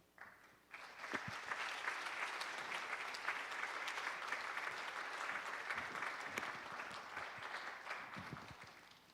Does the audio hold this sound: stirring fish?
no